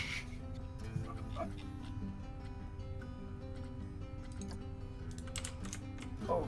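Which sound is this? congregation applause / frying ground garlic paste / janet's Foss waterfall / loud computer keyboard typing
loud computer keyboard typing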